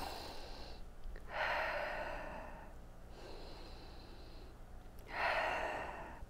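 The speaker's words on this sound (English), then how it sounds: "We're going to do breaths in, slow sunshine breathing." Slow, deep breathing exercise: two long, airy breaths drawn in or let out, each lasting about two seconds, close and soft, separated by quiet pauses, with no speech.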